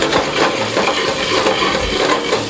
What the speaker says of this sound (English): I gently sweat the squash without browning it, and I stir a little now and again